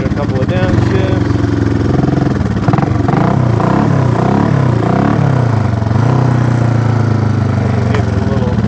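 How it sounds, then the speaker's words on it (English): A Honda CB350 motorcycle, rebuilt from a pile of parts, roars loudly on its first ride, its engine pitch rising and falling through several downshifts amid steady wind rush. "Give it a couple of downshifts."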